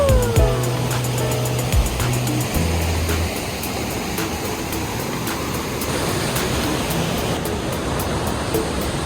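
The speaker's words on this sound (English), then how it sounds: "We're standing at the top of the waterfall right now." Kaaterskill Falls waterfall roaring from the top, a steady loud broadband rush of falling water that fills the whole clip, with no voices.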